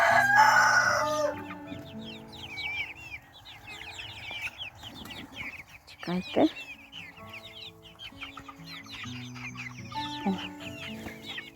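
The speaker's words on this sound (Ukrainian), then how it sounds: "в такому розмірі мої вже курчата" Chickens cluck and chatter steadily close by, with a rooster's crow at the start and a brief spoken word mixed in.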